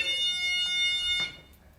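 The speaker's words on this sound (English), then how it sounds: "if anything breaks that beam, it will set off an alarm, like so" An infrared beam-break alarm sounds with a steady high electronic tone for over a second, then cuts off, leaving a faint quiet room.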